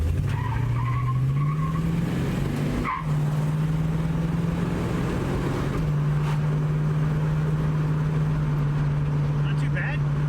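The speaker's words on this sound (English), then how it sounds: "I don't normally spin the tires." Car tires spin and squeal under hard acceleration from an engine fitted with a racing carburetor and a shift-kit transmission, a steady loud howl holding for about ten seconds with one brief dip.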